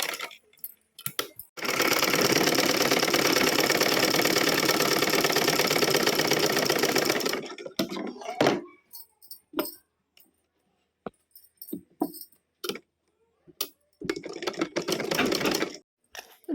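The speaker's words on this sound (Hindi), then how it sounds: "शाम के 6 बजे बैठे थे सिलाई करने।" Domestic sewing machine stitching blouses in a village home, running in one long steady whirring burst for several seconds, then stopping and giving way to scattered clicks and short handling knocks before briefly running again near the end.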